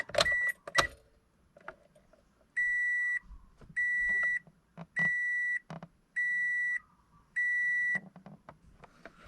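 A 2005 Toyota Corolla dashboard chimes during an oil maintenance light reset: five evenly spaced electronic beeps, each about half a second long, follow a few clicks and switch sounds inside the car.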